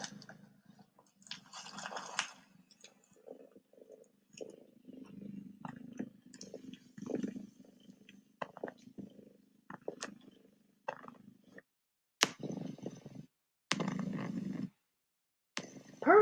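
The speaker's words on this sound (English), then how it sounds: "The cat is purring." A cat purring close up, a soft low rhythmic rumble in repeated pulses with some brief louder crackly bursts, and no talking.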